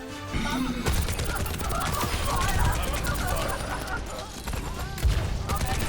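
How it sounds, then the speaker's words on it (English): Rapid gunfire from an ability in the video game Overwatch 2, a dense sustained burst of shots with crashes and game effects running nearly throughout, loud and close, with voices mixed in. "I get up to a high point and I pop my ability and lay down the fire"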